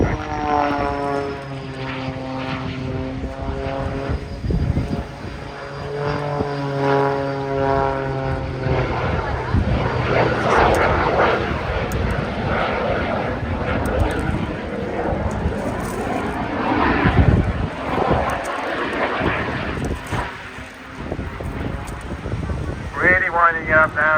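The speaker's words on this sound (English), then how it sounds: "It sounds very strange, somebody's having a bit of jet noise as well there." Aerobatic propeller plane at the Eastbourne air show, its engine droning and winding up loudly and steadily throughout, with a jet-like roar mixed in and a commentator talking over it.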